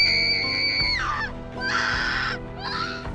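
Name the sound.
girl screaming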